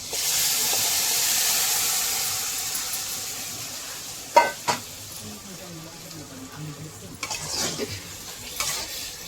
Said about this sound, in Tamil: இப்போ நம்ம இந்த மாங்காயை வந்து அப்படியே அதில் கொட்டுறோம்.